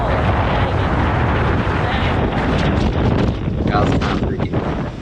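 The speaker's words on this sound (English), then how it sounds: "this is when the first big gust came" A strong gust of wind roars across the microphone in a loud, steady, broadband rush that holds for the whole stretch, with a voice speaking briefly over it.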